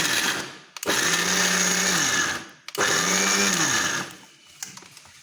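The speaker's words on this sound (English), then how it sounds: "In intervals we'll grind so that it doesn't become a paste or a milk." Electric mixer grinder whirring as it grinds coconut for barfi, run in two loud bursts of roughly a second each with short pauses between and after, no talking.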